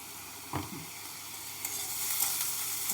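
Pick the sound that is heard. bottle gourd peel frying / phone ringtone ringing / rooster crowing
bottle gourd peel frying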